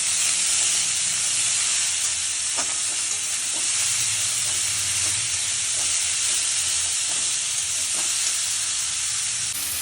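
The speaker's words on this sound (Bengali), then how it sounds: "এবার আলু আর পেঁপেটাকে ফোড়নটার সঙ্গে একটু ভালোভাবে ভেজে নিতে হবে।" Potato and papaya fry with tempering spices in a pan, a loud, continuous hissing sizzle that runs throughout, with faint scrapes of stirring underneath.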